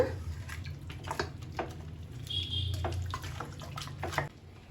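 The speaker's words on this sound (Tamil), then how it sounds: "கறி முழுகிற அளவுக்கு கொஞ்சமாக தண்ணி ஊற்றிக்கோங்க." Water pours steadily into a pot of country chicken gravy with a continuous splashing gurgle, close by, with faint clinks.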